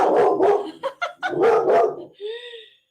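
A dog barks loudly and close by in a rapid burst of several harsh barks, then ends with a short whine.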